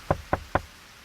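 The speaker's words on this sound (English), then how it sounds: "I was on page 33 when I heard a knock." Three sharp, evenly spaced knocks on a door, close and distinct, followed by quiet room tone.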